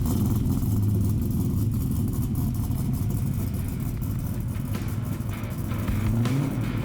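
A 1969 Camaro Z28 restomod's engine runs loud and close, a deep throbbing idle with rising revs toward the end, no voices over it.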